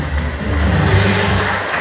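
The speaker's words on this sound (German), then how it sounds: "der Applaus ist für Sie" An audience at a raffle during a spring blossom festival applauds a prize winner, a steady, dense wash of clapping with a faint crowd murmur, continuous and fairly loud throughout.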